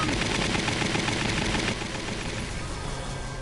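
Rapid gunfire aimed at a tank in the Valkyria Chronicles Remastered video game, a dense, continuous automatic burst that stays loud throughout and eases slightly partway through.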